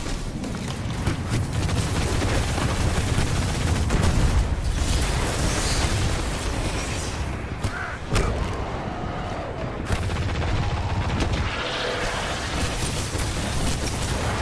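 Khvostov automatic rifle fire in the shooter game Destiny, a dense continuous roar of gunfire and booming explosions throughout, loud and close.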